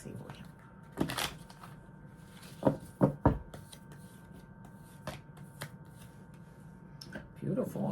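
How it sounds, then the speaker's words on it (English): Tarot cards are shuffled in several short riffling bursts at close range over a quiet room tone, with a soft voice murmuring in places. "I'm going to shuffle just a couple more times."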